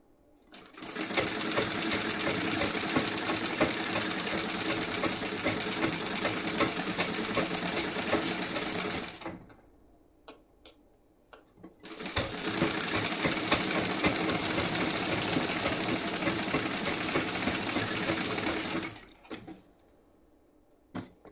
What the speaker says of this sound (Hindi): अब इस पे मैं स्टिचिंग करके दिखाऊंगी।